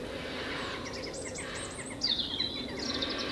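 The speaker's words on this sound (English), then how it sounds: "Can you hear all the birds in the background? We've got a rookery up the hill." Birds call from a rookery up a hill, faint distant chirps and squawks over a steady outdoor background hum, with no talk.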